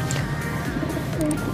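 A pigeon coos in low, throaty, repeated calls over a steady background hum, close by and fairly clear.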